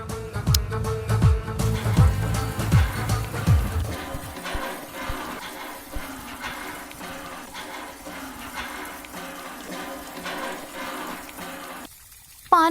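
Water pours and splashes as a clay pot fills and overflows, a loud churning gush at first that settles into a steadier trickling flow for several seconds before cutting out abruptly.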